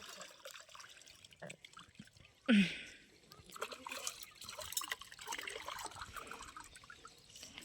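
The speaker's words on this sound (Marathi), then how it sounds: "भांडे घासायला टोपल्यात पाणी घेतलंय खळखळ भांडे धुईले" Dishes being washed in a basin of water, with soft sloshing and trickling, a brief louder splash, and light clinks of utensils, close and fairly quiet, with a little talk in the background.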